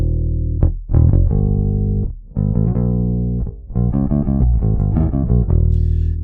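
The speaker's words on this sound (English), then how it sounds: "using an actual bass, it would sound like this." An actual bass guitar played in a series of loud, sustained low notes with short breaks between phrases, heard alone with no talking.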